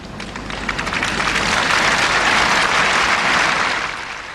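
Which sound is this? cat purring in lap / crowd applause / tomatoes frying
crowd applause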